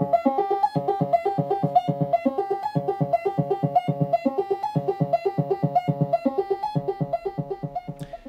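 A homemade J-FET VCA synthesizer module on test plays a fast, steady sequence of plucky, pitched synth notes with sharp attacks and quick decays, looping evenly without any voices.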